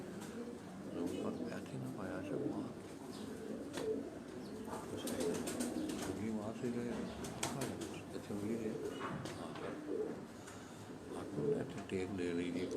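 Sialkoti pigeons on a rooftop in Sialkot coo softly and flap their wings now and then, heard at close range beneath someone talking almost throughout.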